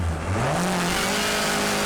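A Mini race car charges up the course at the Gurston Down Speed Hillclimb in 2008, its engine note loud and close as it climbs steadily in pitch, with a hint of tyre noise over a continuous roar.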